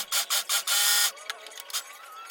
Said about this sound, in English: I am sewing together and adding braided swimwear elastic to each strap.